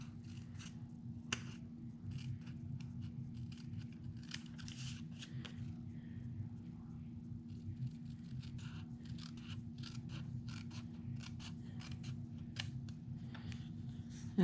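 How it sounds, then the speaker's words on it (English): Scissors cut out small paper squares with white borders for a summer lemonade craft project, giving a steady run of soft, close snips and scrapes over a low constant hum. "it looks like I'm just cutting out a few squares"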